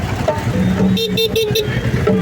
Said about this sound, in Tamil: தலைவர் ஹார்ன் அடிச்சுட்டே போகிறாரு கைஸ்.